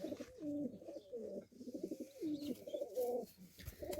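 Desi pigeons in a loft give soft, low cooing and warbling calls, with young birds nearby, heard fairly close and quiet with no one talking.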